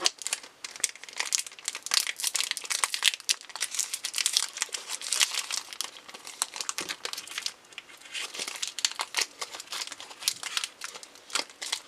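A My Little Pony CCG booster pack's foil wrapper is torn open and crumpled by hand: continuous close, loud crinkling and crackling with quick rustling bursts, no speech.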